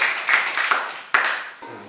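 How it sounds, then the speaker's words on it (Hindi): Children in a classroom clap loudly, giving a dense, irregular patter of hand claps that comes in a few swelling bursts and then stops abruptly. "ताली बजाओ जोर से।"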